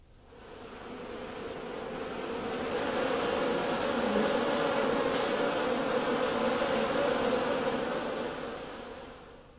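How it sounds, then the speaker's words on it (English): A honeybee (Apis mellifera) forages for nectar on mustard flowers, giving a steady, close droning buzz that swells toward the middle and eases off near the end, with no voices. "The honeybee, Apis mellifera, is collecting nectar on the flowers of the mustard plant."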